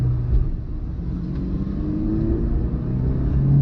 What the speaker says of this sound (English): Alright, so we're going to give a little acceleration pull.